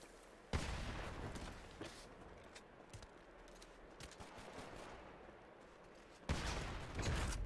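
AR assault rifle gunfire in a GTA roleplay game, with sharp bursts opening and closing the stretch and scattered lighter shots between, fairly loud against a steady background.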